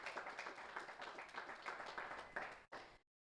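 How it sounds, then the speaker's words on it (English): Applause from an audience at a 2022 university media awards showcase, steady dense clapping filling nearly three seconds before cutting off abruptly, with no voices over it. "let's give her a round of applause"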